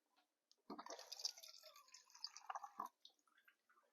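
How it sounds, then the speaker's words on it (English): Water poured from a container into a pot of simmering pot roast gravy, a steady, quiet splashing stream of about two seconds that ends with a few soft drips, with no talking. "I'm going to add a little bit more water."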